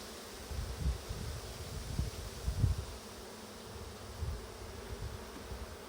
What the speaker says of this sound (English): Bees on there, they're drawing all the comb out because it's all new wax foundation